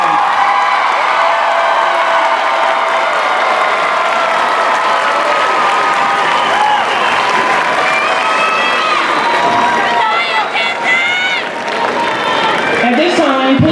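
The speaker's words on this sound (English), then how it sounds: "Let's give another round of applause for our class of 2025." Applause and cheering from the audience at a high school commencement for the class of 2025 go on for about fourteen seconds as a loud, continuous wash of clapping, with whoops and shouts rising toward the end.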